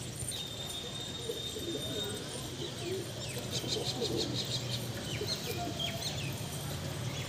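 Native Girebaj pigeons coo softly in a loft, the low murmuring calls partly buried under steady background noise and other faint bird sounds throughout.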